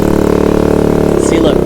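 A Honda Ruckus scooter with a freshly swapped motor idles with a close, steady, buzzing pulse. Near the end it revs up briefly while a voice speaks over it.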